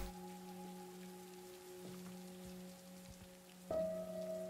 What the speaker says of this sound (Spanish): Lloviendo acá, tapa la pérdida.